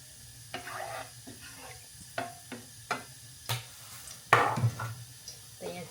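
Ghee heating in a pan for khichdi gives off a soft, steady sizzle, broken by a string of sharp clinks and scrapes as a spoon stirs. It sounds close by and fairly quiet, with no talking.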